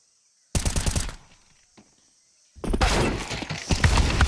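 Counter-Strike gunfire during an IEM Cologne 2025 esports match: a sharp, loud rapid burst, a short lull, then a second longer volley of rattling shots.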